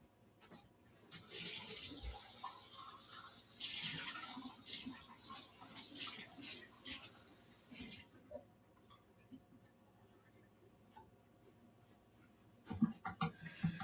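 Water running from a tap into a glass indoors, a broad hissing stream with bursts and pauses over several seconds, then quiet before a few clinks and handling sounds at the end.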